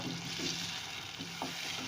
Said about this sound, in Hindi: और अब इसे मैं स्पून की मदद से ऐसे मैश कर दूंगी, ये खड़े खड़े ना रहें, सारे सॉफ्ट हो जाएं बिल्कुल।